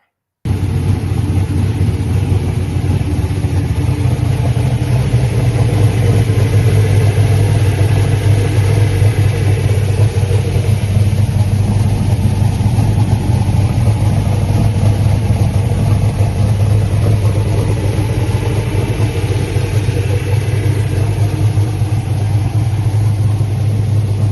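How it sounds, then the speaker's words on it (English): A race car engine runs loud and close for the whole stretch, a constant rough, rumbling drone with slight swells in pitch and no voices over it. "We got a little video of your car running here."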